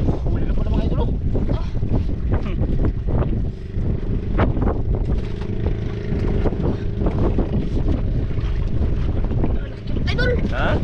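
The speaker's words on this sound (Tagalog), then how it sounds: "Maraming hangin to idol." Strong wind buffets the microphone over a rumbling boat engine and splashing water, with voices talking intermittently underneath.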